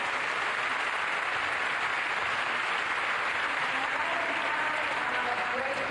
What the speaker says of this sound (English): let's give another round of applause to our panel